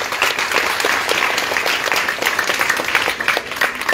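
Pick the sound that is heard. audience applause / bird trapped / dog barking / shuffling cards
audience applause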